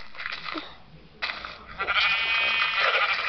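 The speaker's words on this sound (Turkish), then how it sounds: "O iki tane koyun." Synthetic-sounding Minecraft Pocket Edition sheep bleats repeat a few times, close and fairly loud, with short pauses between them and no talking.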